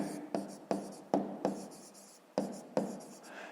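A math solution is written out by hand, heard as a series of short, crisp scratching strokes, each starting sharply and trailing off, with brief pauses between them and quiet surroundings.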